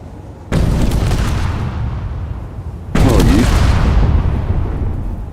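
Two loud, booming explosions go off in Space Engineers about two and a half seconds apart. Each blast rumbles and fades slowly.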